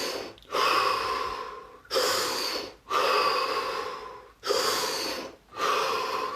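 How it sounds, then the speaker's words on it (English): Three deep breaths, each a long loud airy inhale followed by a slower exhale, close to the microphone with short pauses between. "Drop your hands, relax, and take 3 deep breaths."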